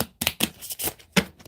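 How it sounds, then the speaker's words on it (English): A deck of tarot cards is shuffled by hand in a few quick close riffling bursts with short gaps between, crisp papery snaps without talk. "So, one more shuffle, y'all."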